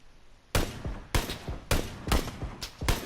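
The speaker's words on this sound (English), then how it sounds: "we have a little exchange of gunshots here" Rapid exchange of gunfire in the video game PUBG on the Miramar map: five or six sharp, loud shots in quick succession, each with a short echoing tail, no talking.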